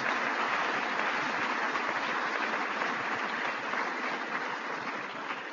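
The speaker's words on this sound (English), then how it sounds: "Let's hear a round of applause for all our Indian Americans." A large audience applauds Indian Americans at a US-India business summit, a dense, steady wash of clapping that stays loud and even throughout before easing slightly at the end.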